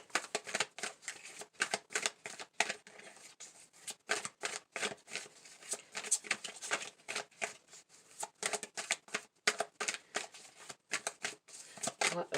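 Tarot cards are shuffled by hand at close range, with repeated quick riffling bursts and soft flutters coming in an irregular rhythm, fairly quiet and without talk.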